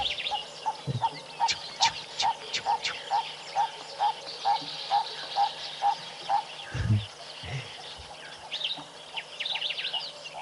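A small bird, a yellow-breasted apalis, gives a long run of evenly spaced sharp chirps at a steady pace, with other birds calling faintly and a brief low thump.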